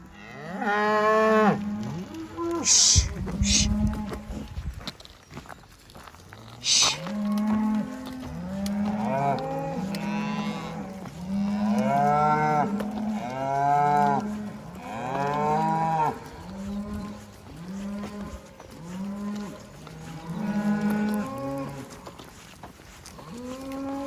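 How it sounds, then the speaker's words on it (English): Herd of cows and calves on a farm field mooing almost continuously, overlapping calls of varied pitch, some near and loud, others farther off, with no talk. "The batch of cows and calves that we moved from below the farm,"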